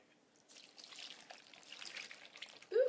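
Liquid trickles and splashes as water and broth are poured into a crockpot, a soft, uneven pouring that swells and fades, ending with a brief louder clunk.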